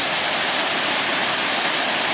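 Devil's Kettle waterfall roaring from the top of the falls on the Superior Hiking Trail, a loud, steady broadband rush of falling water filling the whole span with no voices.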